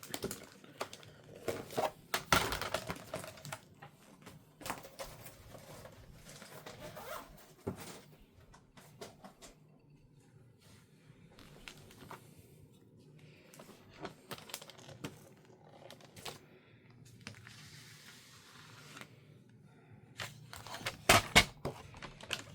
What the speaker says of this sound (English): we're gonna cut this down and emboss it